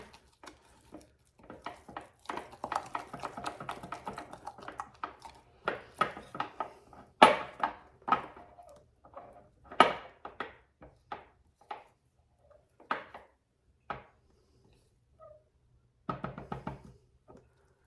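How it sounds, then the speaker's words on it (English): A spoon stirs sourdough starter in a container with intermittent knocking and scraping taps against the sides, irregular clusters of close, fairly quiet clicks separated by short pauses. "I'm just going to give that a good stir"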